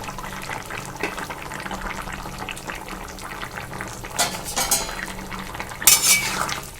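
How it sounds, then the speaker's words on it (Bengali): A spoon clinks and scrapes against a pot while stirring potato curry, with soft continuous cooking noise underneath and a few sharper metallic knocks toward the end. "এবার ভালো করে মিশিয়ে দেব।"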